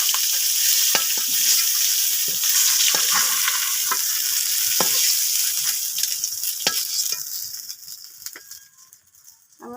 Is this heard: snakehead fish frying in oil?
yes